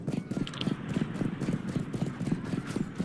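Cavalry horses charging in the video game Mount and Blade Bannerlord II, a steady, fast galloping hoofbeat rhythm, loud and close, over a low battle rumble with faint voices in the background.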